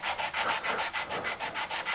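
Steady rhythmic rasping of a molding plane cutter rubbed back and forth on sandpaper, about nine even strokes, close and fairly quiet, with no voices.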